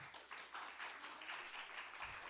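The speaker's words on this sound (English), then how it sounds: "Let's give Nathan another round of applause." Church congregation applauding preacher Nathan Bratcher after a sermon; a soft, steady wash of many hands clapping, faint and distant, lasting throughout.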